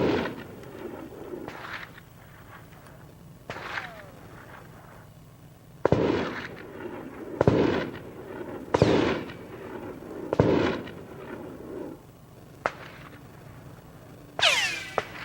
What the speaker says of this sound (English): we have got ricocheting bullets going everywhere